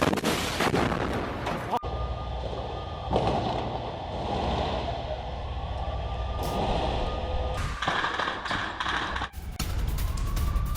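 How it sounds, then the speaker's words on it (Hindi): Heavy blasts and rumbling explosions as military vehicles are blown up in Gaza, with sharp bursts and sustained roaring debris noise, loud and close, continuing throughout. "सैन्य वाहनों को कैसे धमाके के जरिए उड़ा दिया गया है,"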